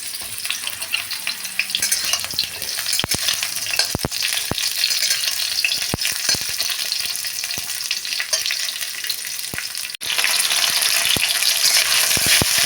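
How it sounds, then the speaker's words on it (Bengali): Vegetables fry lightly in hot oil for Bengali sukto with a continuous loud sizzle. Occasional sharp pops and crackles sound up close, and a brief shift comes partway through, with no voices. "এরপর আমি আস্তে আস্তে সব সবজিগুলো হালকা করে ভেজে তুলে রাখবো।"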